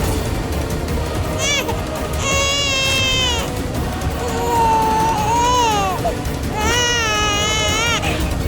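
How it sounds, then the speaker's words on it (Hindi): An infant cries in repeated wailing bursts, loud and close, over a steady background hum in a domestic drama scene. "बच्चे की रोने की आवाज"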